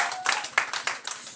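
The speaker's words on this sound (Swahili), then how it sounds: "Piga Yesu wetu makofi mazuri" Congregation in a Swahili-speaking church service clapping for Jesus, a quick run of bright, irregular hand claps repeating through the moment at close range.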